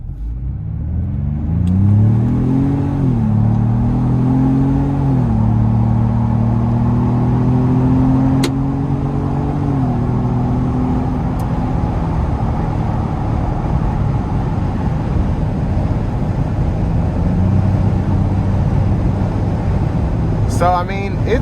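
A 2025 Ford Bronco Base 2-door with a turbocharged 4-cylinder accelerates at full throttle out of a corner, heard from inside the cabin: a loud engine note climbs in pitch through a few gear changes, then settles into a steady drone over constant road noise.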